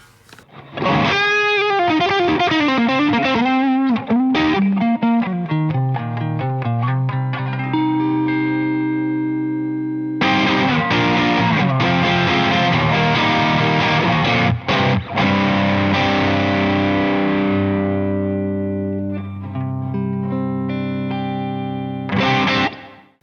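Loud distorted electric guitar playing sustained chords and riffs, ringing out and decaying, with brief pauses between phrases.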